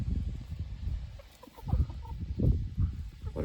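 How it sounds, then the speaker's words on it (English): Chickens on an Alberta farm on a hot afternoon give soft, scattered clucks and low murmurs nearby, with a steady low rumble underneath and no talking. "feeding the chickens"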